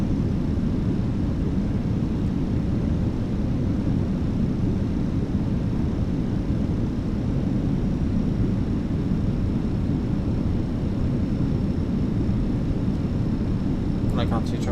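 A Jet2 airliner is flown by hand on approach in a flight simulator game, its engines giving a steady, loud broadband rumble and roar that holds without a break. A short clicking burst comes near the end.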